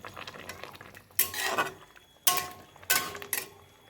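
Curry gravy for katla fish boiling in a pan, with a low bubbling simmer broken by a few loud bursts of clattering and stirring against the pan.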